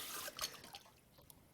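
Water from a nozzle attachment rinses soapy trumpet slide tubes in a sink, a brief splashing rush that fades into faint dripping and trickling.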